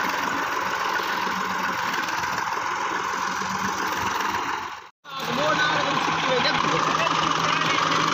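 A tractor engine idles steadily and loudly for the whole stretch, with a low droning rumble and a brief dropout partway through; no talk is heard over it.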